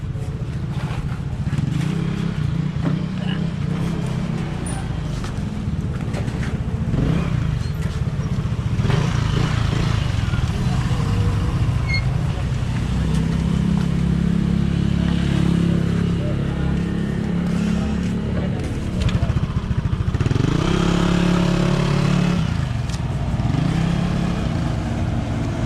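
A Yamaha Aerox scooter engine idles and revs in bursts during a brake test at a repair shop, rising and falling beneath faint background talk and clatter.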